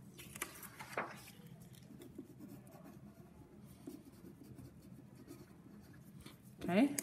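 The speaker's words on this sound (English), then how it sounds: "I flip my paper over and write my name on the back." Pen or marker scratching across paper as a name is written on the back of a sheet, soft continuous strokes with faint background murmur and a brief louder scrape near the end.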